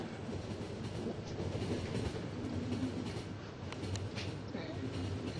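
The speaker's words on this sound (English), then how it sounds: "Fantastic train, yes." A train rolls along steadily in the video game The Final Station, its rumbling wheels and clickety-clack carrying on continuously at moderate volume.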